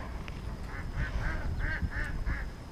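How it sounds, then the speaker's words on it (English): Ducks squabble and quack near a reedy fishing spot, a run of six or so harsh, nasal quacks in quick succession at moderate distance, with water and outdoor background noise. "What are the ducks fighting over there?"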